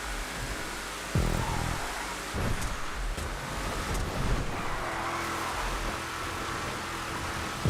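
Trophy truck racing along a rally road in GTA 5, its engine a steady loud drone with tire noise and bumps as it bounces over rough ground.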